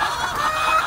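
Desi chickens cluck steadily at a poultry farm in Pakistan, a dense, close chorus of hens filling the moment with no talk over it.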